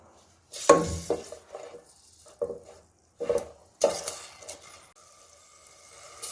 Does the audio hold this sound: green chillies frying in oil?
yes